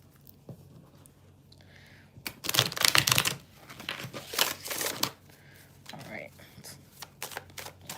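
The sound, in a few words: shuffling a deck of cards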